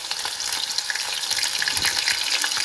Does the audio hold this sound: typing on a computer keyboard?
no